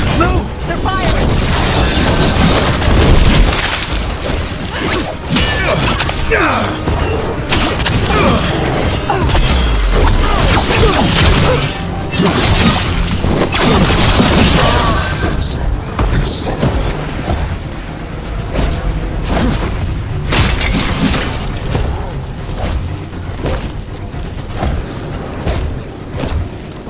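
Incoming weapon fire and explosions in Dragon Age: The Veilguard, a dense and continuous loud barrage of booms, crashes and shattering impacts that lasts throughout, with battle voices mixed into the chaos.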